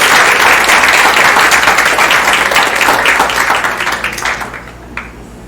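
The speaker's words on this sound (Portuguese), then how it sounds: "Nossos aplausos ao novo membro honorário da Academia de Medicina do Pará." A ceremony audience at the Pará Academy of Medicine induction of honorary members gives a full burst of dense clapping that gradually thins and fades out after about five seconds.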